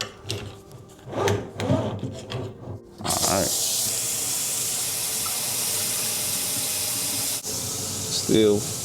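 Water spraying from a leaking plumbing nut, a steady loud hiss beginning abruptly after a few knocks and rustles, then running continuously up close to the end.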